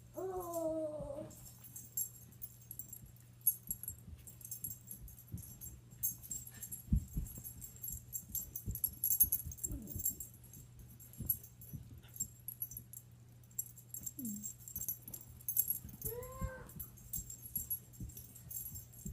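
Dog whimpering and yelping in short high whines at the start and again near the end, with faint jangling and scattered taps between, quiet and close.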